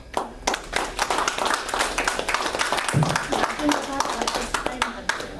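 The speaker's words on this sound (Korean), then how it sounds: "뜨거운 박수를 다시 한번 부탁합니다" Applause from an audience, a dense patter of claps lasting several seconds, with voices murmuring underneath.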